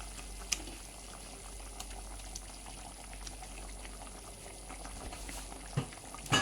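Chicken Manchurian sauce with chicken pieces bubbles and simmers in a pan, a quiet continuous low boil with small pops and a few spoon taps, a louder clatter near the end.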